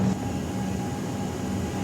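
HCMT train at a Melbourne station platform, a steady low rumble and hum of the standing or slowly moving train with a faint sustained tone, no talk.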